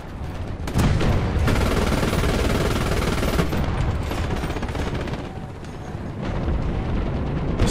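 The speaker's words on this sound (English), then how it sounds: "Machine guns, machine guns, machine guns." Sustained machine gun fire in the War Thunder video game, a loud continuous rattle of rapid bursts mixed with heavy booming impacts, easing briefly before picking back up.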